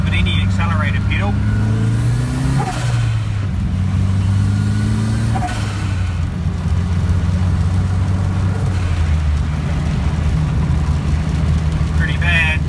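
Datsun 1600/510 car driving on a wet rural road in the rain, its engine droning steadily and loud throughout with a low hum that shifts pitch as it accelerates, and someone talking over it.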